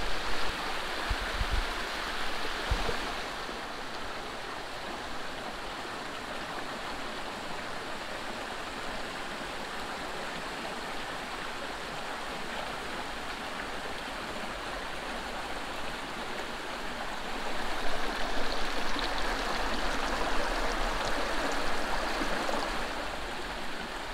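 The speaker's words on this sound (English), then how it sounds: "I think actually this is the river that we followed on the way down." A river flowing through the Sabah countryside, a steady broad rush of water holding level throughout and swelling slightly louder near the end, with no voices.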